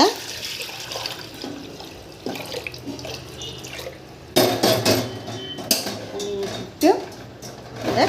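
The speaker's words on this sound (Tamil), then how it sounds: "தண்ணி ஊற்றிக்கோங்க" Water splashes and pours into a metal pressure cooker amid clanking pot sounds, with intermittent bursts of running water and kitchen clatter, while preparing palmyra sprouts for boiling.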